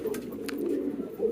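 Pigeons cooing at close range in a loft where fancy pigeons are kept, a steady low burbling coo running continuously throughout with no talk.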